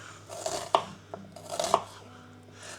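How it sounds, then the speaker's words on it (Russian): A knife chops through onions cut fairly coarsely into half rings for a cream sauce, giving two distinct, close chops about a second apart on a board, with no talking. "Здесь у меня 2 луковицы, и мы сейчас сравнительно по-крупному порежем."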